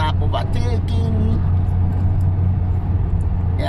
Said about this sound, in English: So you can see the way the cars are overtaking.